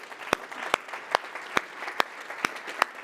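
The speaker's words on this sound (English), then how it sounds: "massive round of applause" At an education conference, audience members applaud the staff with sparse, evenly spaced claps, about seven crisp hits over a faint, quiet background.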